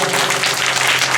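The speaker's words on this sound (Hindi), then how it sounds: "इस बच्चा के लिए जोरदार जोरदार ताली हो जाए।" Applause for a child at a Gandhi Jayanti school celebration, a short burst of dense, steady clapping from a crowd filling the whole moment.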